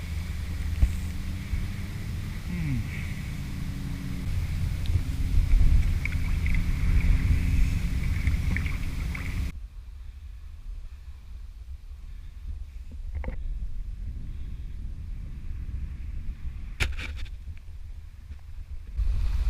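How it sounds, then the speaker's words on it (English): A Sea Eagle 420x Explorer inflatable kayak moves across open water, with wind rushing over the microphone and then a quieter stretch of soft paddle splashes and occasional knocks, close and unhurried. "sitting on the water and just having a paddle"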